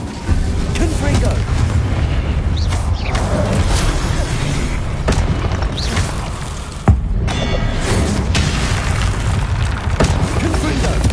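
Repeated Confringo fire-spell blasts in the game Hogwarts Legacy, played on PS5, deep booming bursts layered over a dense continuous battle din, with one sharp louder impact near the middle.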